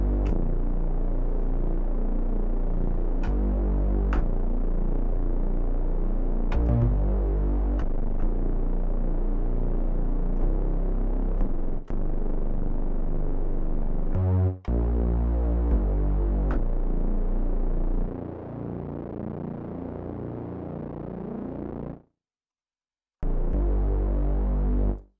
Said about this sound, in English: this one can be focused on the low end with like a sine wave